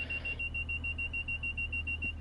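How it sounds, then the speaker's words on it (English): Door-closing warning buzzer on a Transport for Wales Class 142 Pacer in Train Sim World 6, a steady high electronic tone pulsing in a regular beep-beep rhythm over low engine rumble, alone without talk. "Always had that little beep beep beep at the end when the doors were closing."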